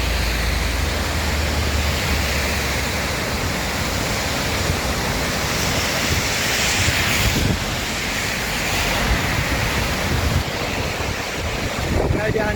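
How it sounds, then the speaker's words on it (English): The Uvongo river rushes in flood, a dense, continuous roar of churning water filling the whole span at steady loudness, with wind buffeting the microphone and no speech. "Just look how the Uvongo river is coming down in flood."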